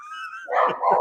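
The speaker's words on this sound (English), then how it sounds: "Sorry, dogs are not that loud." Dogs barking indoors, a couple of loud, close barks after a brief higher tone, coming in quick succession.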